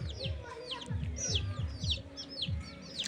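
Chickens cluck repeatedly close by in short bursts, with high chirping calls scattered over the top.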